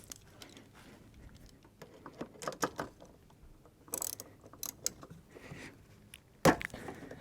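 A 15 wrench ratchets and clicks in short bursts, with metallic clanks and scrapes as an AC service port fitting on a Chevy Cobalt is worked loose, ending in a sharp metal knock.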